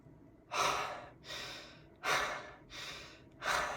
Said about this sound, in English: I was breathing for most of my life in my chest, and it would look like this